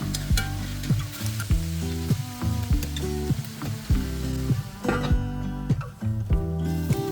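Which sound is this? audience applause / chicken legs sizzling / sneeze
chicken legs sizzling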